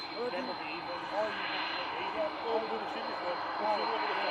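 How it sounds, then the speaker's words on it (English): Aer Lingus Airbus A380 jet engines roaring at departure from Manchester Airport, a steady, broad, moderately distant roar with a faint high whine and rising and falling swells. A voice talks over it. "now we're going to get some proper engines for you with this Aer Lingus A380 departure"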